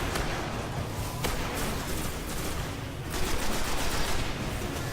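Sustained gunfire from the Destiny shooter on PS4 as enemies are shot, a dense continuous barrage of rapid shots with heavier bursts toward the end, loud and without talk.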